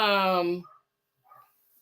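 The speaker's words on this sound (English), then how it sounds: "I'm sorry about the barking" A dog lets out one loud, drawn-out yelp or bark close by, lasting about half a second, followed by near silence and a faint rustle.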